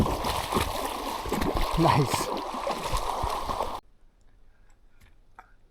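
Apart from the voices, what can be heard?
footsteps wading through shallow stream water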